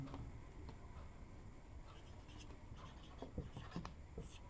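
Quiet scratchy strokes of writing on a board during a maths lesson, steady and close, with a few sharper taps and squeaks toward the end and no talking.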